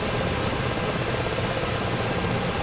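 Twin engines of a Ka-50 Black Shark attack helicopter in the DCS combat flight simulator run at a steady idle, a loud continuous roar and whine with no voices.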